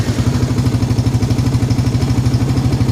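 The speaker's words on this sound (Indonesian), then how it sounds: "kita coba nyalakan motor" Yamaha Vixion motorcycle engine, just brought back from a total electrical failure, running at a steady, rhythmic idle with a close, loud putter and light mechanical clatter.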